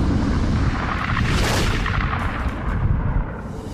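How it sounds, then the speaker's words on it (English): A deep, rumbling explosion effect for a supernova in a space documentary swells loudly, peaks with a roar, then rolls on in a heavy, sustained boom. "pulsars are formed in these incredible explosions"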